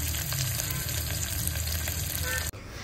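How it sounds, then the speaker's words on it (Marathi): Onions fry in a pan as the base for chicken biryani, a close, continuous sizzle and crackle with a steady hiss that drops sharply near the end and then picks back up. "मग त्यासाठी मी कांदा वगैरे छान फ्राय करायला घेतला"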